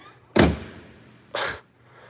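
Two solid thunks from the door of a 1976 Mack B-61 truck swinging shut, the first loud and close, the second a bit softer about a second later, with quiet between them and no voices.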